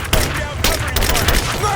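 Short burst of gunfire in the Rise of the Tomb Raider video game, rapid overlapping shots crackling loud and close against a busy battle backdrop.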